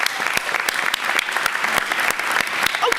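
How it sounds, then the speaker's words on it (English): An indoor audience at a veterans announcement breaks into steady, dense clapping from many hands, sustained and fairly close, with no pauses. "How about another big round of applause for James?"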